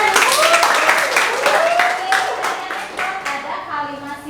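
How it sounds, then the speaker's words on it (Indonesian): Students in a classroom clap together during a lesson, a burst of many hands that thins out over a few seconds while children's voices rise above it. "Beri tepuk tangan."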